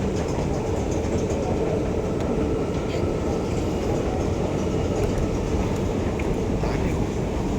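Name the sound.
MRT train at station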